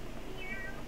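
A brief, faint cat meow from the Wild Flowers farming video game, soft and muffled against a low background hum.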